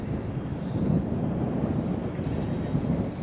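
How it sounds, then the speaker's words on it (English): Strong wind buffeting the microphone on a fishing outing in Newcastle Harbour, a low, rumbling, gusty roar that swells and holds steady throughout. "Pretty strong wind."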